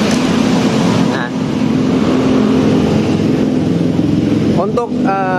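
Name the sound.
Honda Vario 125 motorcycle engine running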